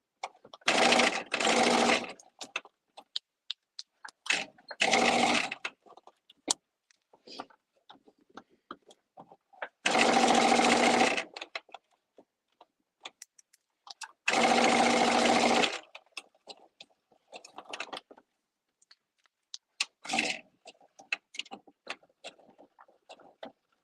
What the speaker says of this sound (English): now we're going to stitch these together